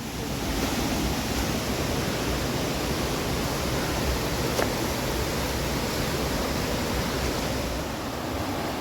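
A waterfall beside a narrow valley path in Clydach, Wales gives a constant broadband rushing roar, steady and loud throughout with no breaks and no speech.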